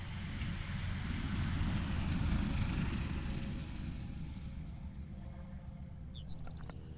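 A Fairchild airplane's engine drones steadily as a broad rumbling roar, fairly close, slowly easing off toward the end, with faint clicks and chirps on top.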